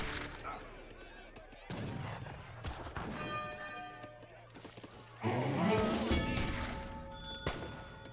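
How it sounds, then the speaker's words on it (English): Musketeers in Age of Empires 3 fire volleys of musket shots, a run of sharp cracks and booms with ringing tonal game effects and battle sounds layered over them, growing louder and denser toward the end. "Get some good volley there onto those Hussars."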